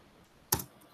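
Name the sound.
typing a git command on a computer keyboard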